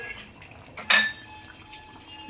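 Green capsicum tipped into a hot pan of chicken do pyaza gives one short, close clatter and hiss at about a second in, then fades back to a quiet kitchen background with no talking.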